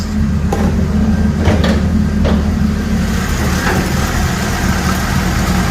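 A 1968 truck's straight-six engine idles with a steady low rumble and even rhythmic chugging, close by, with a few faint clicks on top.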